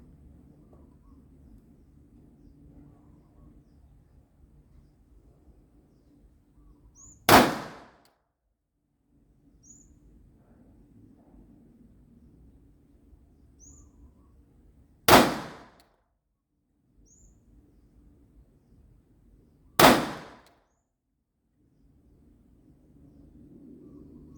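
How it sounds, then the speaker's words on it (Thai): Three loud, sharp SIG SAUER P229 9 mm pistol shots fired at a 7-yard range, spaced several seconds apart, with quiet low background rumble between them. "ซิกซอเออร์พีสองสองเก้านะครับ ขนาดเก้ามม อ่ะ เดี๋ยววันนี้จะลองยิงครั้งแรก แบบไม่ต้องซ้อมเลย ในระยะ เจ็ดนานะครับ"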